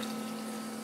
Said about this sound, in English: Is this one going to be fizzier? Sounds fizzier. Sounds gassier.